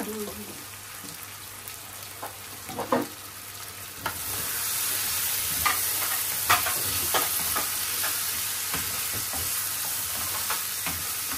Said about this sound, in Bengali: এবার গুর্দা এবং কিডনিটাকে একটু ভালো করে কষিয়ে হাফ ডান করে নেব।